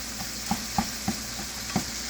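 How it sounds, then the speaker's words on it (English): A pound of ground beef and half a cup of chopped onion browning in a pan, a steady close sizzle broken by regular scraping taps of a utensil stirring the meat. "you get a pound of ground beef and chop up an onion, half a cup of chopped onion, and put in it. And you brown this up real good"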